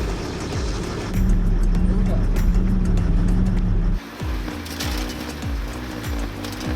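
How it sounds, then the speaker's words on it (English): An army truck fitted as a snow blower keeps its engine running steadily at held RPM while blowing snow, a loud continuous drone with rhythmic knocks, and people speak over it. "It's maintaining engine RPM, which means that it keeps working even when we're blowing the snow."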